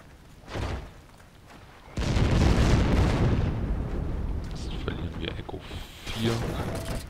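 An explosion in the World War II shooter Heroes & Generals, amid German tanks, bursting as a loud sudden blast with a long rumbling tail, preceded by a smaller thump and followed by scattered pops, with someone talking over it.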